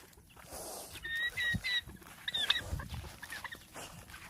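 Chickens cluck in short bursts over an outdoor background, with several chirpy calls close by and rustling movement underneath.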